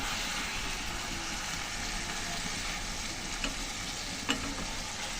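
Hilsa fish fries in a pan for a mustard hilsa curry, with a dense, steady sizzle filling the clip and a couple of faint utensil taps near the end.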